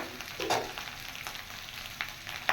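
Whole, unslit green chillies hit hot oil in a pan with a soft sizzle and scattered crackling pops over a steady frying hiss, and no voices.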